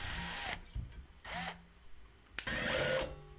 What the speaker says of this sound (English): I'll drill 3 small holes through here